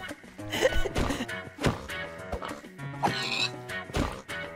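Pig being killed in a video game, with sharp squeals and grunting oinks alongside thwacking hits, several loud bursts over a busy game soundtrack.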